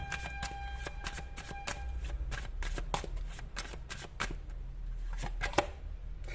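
A deck of tarot cards is shuffled close up, a quick series of crisp riffling snaps and flicks over a low steady background hum.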